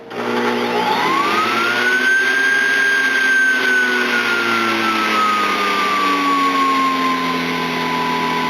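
An Oster self-cleaning juice extractor motor spins up and whines steadily, its pitch rising quickly then slowly sagging, loud and close with no talking.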